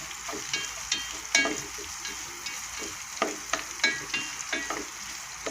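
Garlic and ginger aromatics fry in oil, a soft steady sizzle broken by repeated stirring scrapes and clinks at an irregular rhythm, close and moderately quiet.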